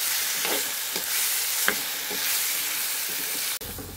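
Raw mango sizzles and fries in a pan while a utensil stirs it in several scraping strokes, ending with a sharp knock.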